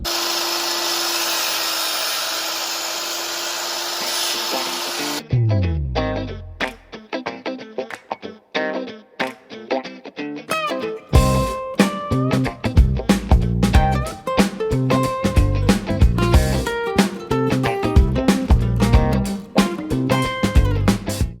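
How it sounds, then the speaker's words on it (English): A jigsaw cuts curves into a wooden dining tabletop: a steady whine at first, then a pause with clunks, then a busy run of rapid, buzzing, chattering cutting bursts, close and loud. "I'm gonna jigsaw out these curves, and then I'm gonna router all the edges on the tabletop"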